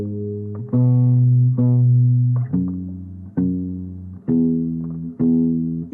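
A simple synth figure from a song cycles through four sustained notes, each struck cleanly and held before the next, repeating in a steady loop, loud and alone with no voices.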